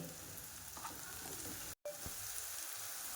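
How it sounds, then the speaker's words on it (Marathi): Wet masala for lasuni methi roasts in oil in a kadai, giving a steady, fine crackling sizzle with the odd stir. It stays close and even, apart from one very short dropout near the middle. "इथे हा मसाला ओला मसाला भाजून घ्यायचा आहे"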